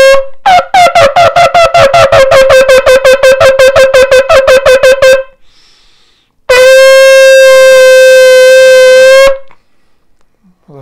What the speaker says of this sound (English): it is a penetrating sound, the sound of the shofar